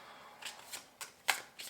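Tarot cards shuffled in short bursts, several soft riffling swishes spaced apart with one sharper, louder snap near the end; quiet and close, with no talking.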